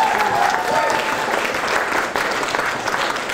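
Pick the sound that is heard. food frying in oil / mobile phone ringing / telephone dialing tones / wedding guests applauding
wedding guests applauding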